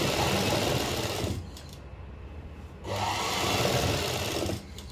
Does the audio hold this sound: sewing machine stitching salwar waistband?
yes